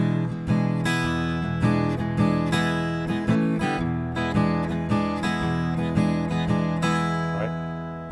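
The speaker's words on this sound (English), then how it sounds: "let me show you what a shuffle groove is here. I'll play it on the guitar" Acoustic guitar plays a relaxed blues shuffle groove, steady repeated strummed chords with a lopsided rhythm, close and clear with no voices.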